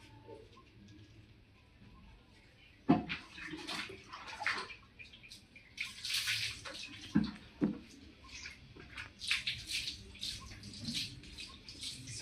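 Water runs and splashes in irregular bursts while a Rottweiler puppy named Charlie is bathed, fairly close and moderately loud, with quiet pauses between the gushes and faint background sound.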